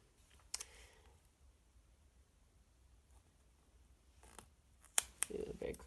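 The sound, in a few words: scissors cutting a heart from a printed planner sticker sheet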